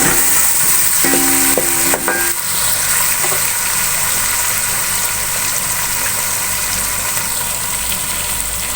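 Tomato drops into a pan of lightly browned garlic, setting off a loud, steady sizzle and fry hiss that carries on evenly, with a brief clatter of handling near the start.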